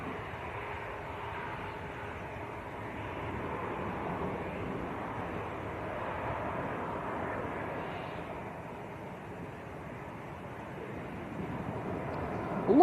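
A Ryanair Boeing 737-800 bound for Barcelona takes off at Manchester Airport, its jet engines giving a steady, distant broadband roar that holds evenly throughout, with some wind across the microphone.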